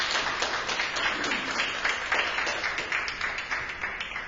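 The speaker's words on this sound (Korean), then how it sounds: "윤문원 대표님께 다시 한번 감사의 박수 부탁드립니다" Audience at a college opening ceremony clapping in sustained, dense applause, a wide wash of many hands filling the room at a steady level for several seconds.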